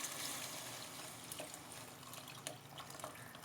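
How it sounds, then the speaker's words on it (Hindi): Beef stock (yakhni) poured into a cooked masala for beef pulao, a steady close liquid splash and trickle lasting throughout with a few small drips, no talking. "अब इसमें हम यखनी ऐड कर देते हैं।"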